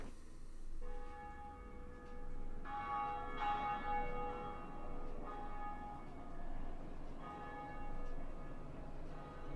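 Large bell tolling in a Dark Souls Remastered cutscene, several resonant strikes ringing out over a low rumbling ambient bed, moderately distant and sustained, with no voices.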